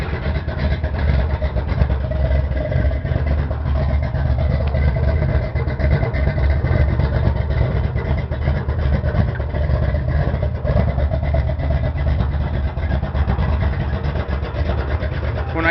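A car engine idling while it warms up on a cold start, a steady continuous low rumble that holds even and fairly loud throughout, with no voices over it.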